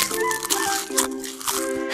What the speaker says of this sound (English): Wow, she does chew loud.